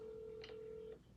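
A telephone ringback tone plays as a steady, faint electronic tone during an unanswered call. It holds for about a second, then cuts off, with no talking.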